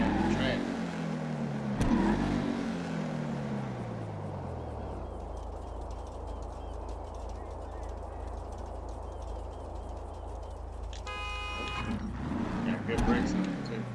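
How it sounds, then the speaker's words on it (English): A drag race car revs and pulls away down the track, its engine note sweeping upward through the gears and then settling into a steady drone that fades into the distance, with a loud rattling burst near the end. "This car's going straight down the track."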